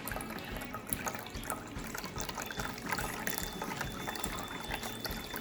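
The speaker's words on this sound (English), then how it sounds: "This is a new way that you're drinking out of it." A dog drinks from a pet water fountain, with steady close trickling and splashing water running throughout and no voices.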